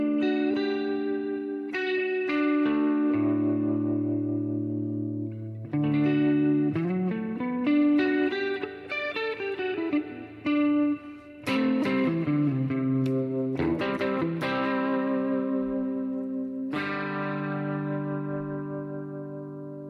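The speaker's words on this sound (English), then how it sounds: "Let's see what a rotary sounds like on the outside of this." Electric guitar runs through a rotary speaker effect in BiasFX2, producing distorted sustained chords and melodic bends with a swirling, wobbling modulation that plays continuously and loud.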